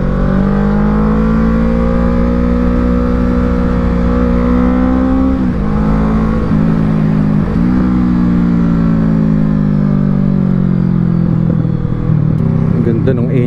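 Kawasaki Z650 motorcycle engine running loud and close on a test ride, a steady droning rev with brief throttle dips and pitch shifts, under occasional talk.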